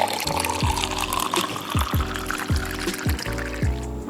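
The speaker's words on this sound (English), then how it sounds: "So I'm going to add some water." Water poured steadily in a kitchen or classroom setting, a continuous close liquid gurgle with repeated rising fill tones as the level changes, no talk over it.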